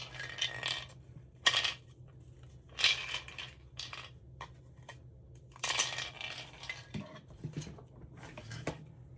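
Dice are rolled for a savings challenge game, with several short clattering bursts and rattles across a quiet room, each roll brief and close, with small handling clicks between.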